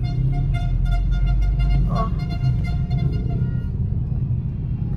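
Traffic on a busy Philippine street where motorcycles pass by, with a steady close engine rumble and a brief horn toot partway through, fading slightly toward the end.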